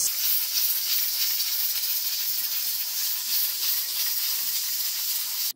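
A pressure cooker hisses steadily with steam while cooking spiced mutton, a loud continuous hiss running unbroken for several seconds before cutting off abruptly at the end.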